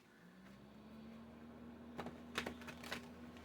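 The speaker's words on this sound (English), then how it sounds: "Let me just give these a shuffle really quick." Soft riffling and flicking of tarot cards being shuffled in a few quick bursts, with a low steady hum underneath.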